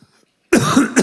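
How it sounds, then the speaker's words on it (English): One close, loud, harsh cough bursts out after near silence, followed quickly by a second short cough burst. "I just coughed."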